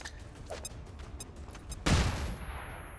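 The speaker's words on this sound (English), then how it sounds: "I think I'm going to flashbang him." A flashbang grenade goes off in XCOM 2 as a sudden sharp blast with a bright burst, trailing into a ringing decay, after quieter clicks and mechanical game sounds.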